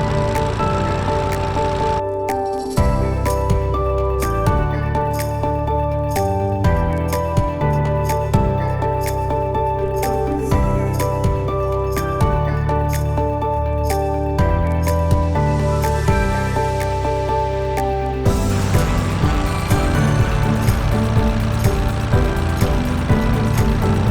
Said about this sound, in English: So it has aerator spikes on it that will dig into the ground, and then the cores will eject out as we're driving along.